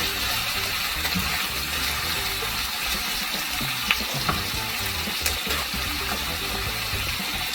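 Fresh shrimp fry in palm oil for Nigerian egusi soup, a dense constant sizzle with a few light utensil knocks, close and loud throughout, no speech.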